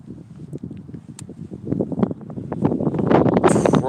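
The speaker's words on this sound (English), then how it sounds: "you come out here and it's way windy" Strong gusty wind blowing across the mic beside a lake during winter bass fishing, a rumbling rush that builds steadily louder toward the end, with light rustling mixed in.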